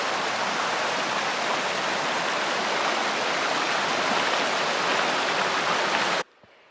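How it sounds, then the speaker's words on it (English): The North Fork of the Swan River rushes steadily in a mountain valley, a loud, continuous broadband roar of flowing water that cuts off abruptly near the end. "There's the North Fork of the Swan River."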